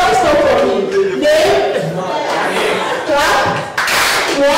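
A group of pupils at a phonics class in Kumasi claps together on command, a short loud burst of hands that breaks up amid chatter, crowd noise and scattered voices.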